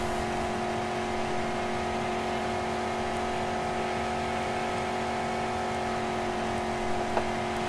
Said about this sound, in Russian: Вы слышите, как ревет мотор?